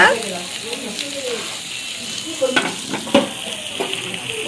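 Fish frying in a pan in a home kitchen, a steady close sizzle with occasional sharper spits and stirring clatter, heard under people talking throughout.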